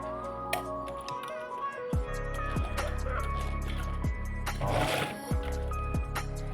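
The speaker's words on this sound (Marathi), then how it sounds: "आता आपण याच्यावर स्टिच करून घेऊ" A sewing machine stitches a zipper onto a dress in short bursts, with sharp regular needle ticks and a brief whirring run in the middle, close and fairly quiet.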